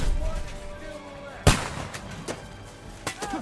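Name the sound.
gunfire in video game Kingdom Come Deliverance 2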